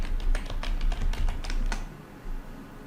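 Text is typed on a computer keyboard as a quick run of light, close key clicks that stops partway through, leaving a faint background hum with no talking.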